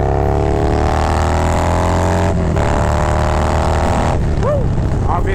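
A Harley-Davidson Milwaukee 8 motorcycle fitted with an aggressive cam accelerates hard at full throttle, its loud, rising engine roar steady and close, with wind buffeting and a brief gear-shift dip partway through.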